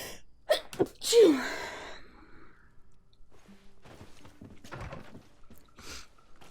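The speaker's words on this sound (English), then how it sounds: "Had to sneeze suddenly." A person sneezes once, sharp and close, near the start. Quiet, faint background sounds from a GreedFall role-playing game follow.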